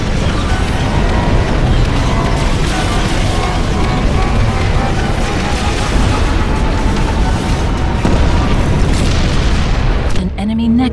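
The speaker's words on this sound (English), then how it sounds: "Now you can decimate your opponent's base with orbital strike." Orbital strike explosion in the real-time strategy game Ashes of the Singularity, a dense, sustained booming blast roar filling the whole span at high loudness, with a brief break near the end.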